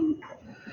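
Paired pigeons give a brief, soft low coo, close by and quiet, in a short burst.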